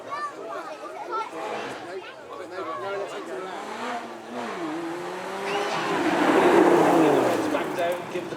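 Supercharged 3.5-litre V6 supercar producing 406 horsepower accelerates at a supercar weekend event, engine note rising and swelling loudly toward the end, under a commentator's running talk throughout.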